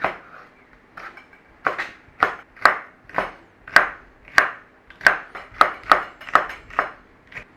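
Knife finely chopping a whole green pepper on a cutting board, a run of crisp sharp taps in a loose, speeding rhythm, close and clear with nothing else behind.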